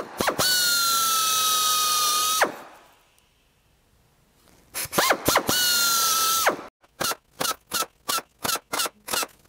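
A power drill bores into small copper logo pieces in a workshop: two long, loud whining runs, a pause, then a quick series of short, sharp drilling bursts, with no talking.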